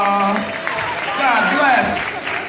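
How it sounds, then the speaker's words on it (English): Comedy club audience applauding in a steady wash of clapping, with cheers and whoops rising over it and voices calling out. "round of applause for Sandra."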